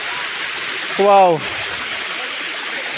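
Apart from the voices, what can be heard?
waterfall at Chakrasila Wildlife Sanctuary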